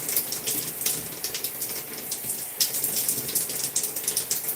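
Water runs steadily from a tap for wetting natural gray hair during a wash-and-go styling session, a continuous close splashing hiss with no talk over it.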